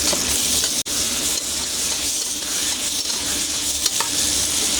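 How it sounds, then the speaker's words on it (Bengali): Potato eggplant curry, just dusted with chili powder, is stirred in a hot pan: a loud, steady sizzle with brief scraping knocks of the spoon and no speech. "আবারও নেড়ে দেবো।"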